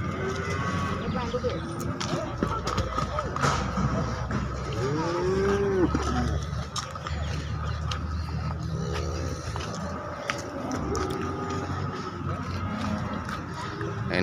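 Cattle mooing at a busy livestock market in Pati, Indonesia, several drawn-out moos rising over steady crowd chatter and people talking nearby.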